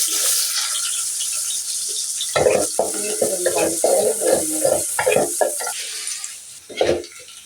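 Onion fried with ginger-garlic paste and turmeric starts as a steady hiss, then breaks into close, clattering stirring in quick bursts over the sizzle, with a final louder scrape near the end.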